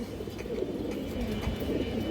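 A male Giribaz sabzi pigeon coos nearby, its low throaty rolls repeating steadily over faint background rustle, with no voices heard.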